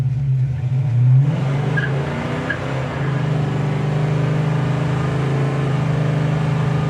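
A 1970 Plymouth GTX engine rumbles steadily at a low pitch as the car cruises along, loud and close, with a brief surge in the first second.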